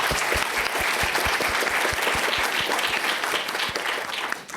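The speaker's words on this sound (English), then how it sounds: "Can we have a round of applause for Mr." An audience applauds artist Wong Keen at a panel event, a thick wash of many hands clapping with some sharp nearby claps standing out, steady for several seconds before tapering.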